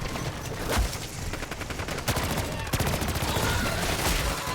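Sentry guns in Call of Duty Zombies fire sustained rapid automatic bursts at close range. The firing comes in two dense stretches, loud and continuous, with a brief pause between them.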